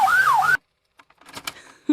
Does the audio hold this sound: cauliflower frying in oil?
no